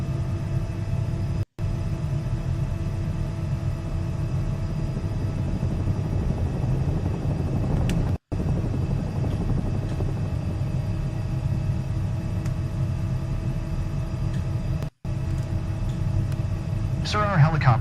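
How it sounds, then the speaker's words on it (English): A helicopter taxis in Microsoft Flight Simulator 2024, its loud, steady rotor and engine rumble droning throughout, broken by a few brief dropouts, with a voice talking over it. "our helicopter is currently taxiing to position for the upcoming takeoff"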